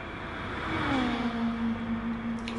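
A race car engine in Gran Turismo Sport revs hard as a steady, high, droning whine that rises slightly and then holds at a constant pitch, close and continuous for the whole stretch.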